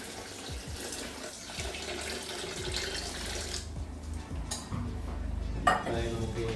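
About a cup of water, roughly 300 ml, is poured into sugar in a pan for making date laddu. The pour is a quiet, steady trickle and splash, with light clinks of utensils.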